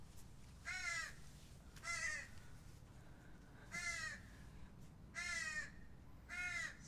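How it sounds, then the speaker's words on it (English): A crow caws five times in a spaced, irregular series, harsh and fairly close, over a quiet background during a yoga class's resting pose. "So it looks like this crow showed up just in time for Shavasana. Making a bunch of noise."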